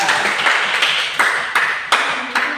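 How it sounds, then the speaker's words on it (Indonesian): A classroom group claps for classmates. Loud, nearby hand claps come in a loose, uneven rhythm of about a dozen strikes, with no voices over them. "tepuk tangan untuk kelompok 3"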